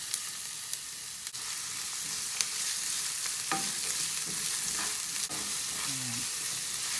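Onions sautéing in oil in a pan for pork empanada filling, a soft steady sizzle with light stirring scrapes and a few small clicks, close and fairly quiet, with no talking.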